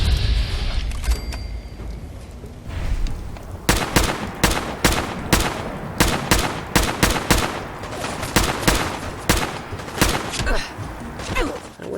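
Rapid gunfire in the video game Fallout 4, a string of loud, sharp shots in an uneven burst rhythm with short gaps, aimed at the player, close and dominant, briefly following some faint background noise.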